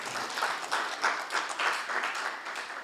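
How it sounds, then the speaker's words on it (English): Audience applause after a presentation, a short burst of even, fairly faint clapping from a room full of people. "Give them a big round of applause."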